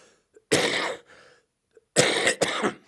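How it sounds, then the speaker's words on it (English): Three harsh coughs up close: one on its own, then a pause, then a quick pair, with quiet breaths in between. "Silence except for my cough, of course."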